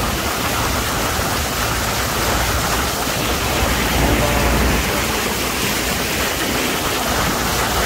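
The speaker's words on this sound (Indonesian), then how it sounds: "jalan raya ini seolah-olah menjadi sungai ya" Flash floodwater rushes down a city road in Mecca, a steady, loud broadband roar of churning water like a river or waterfall, continuous and close with no break.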